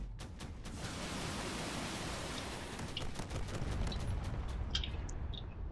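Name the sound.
gunfire from corvettes in a video game battle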